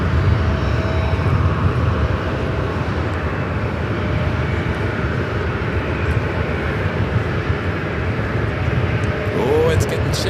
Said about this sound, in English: this flight will be taking off to Orlando, Florida on the 737-800 American 2821